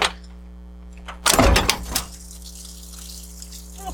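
Leftover water drains and splashes from an old 1980 Ford F-350 service truck engine as a cylinder head comes off, a short burst of gurgling liquid over a steady low mechanical hum.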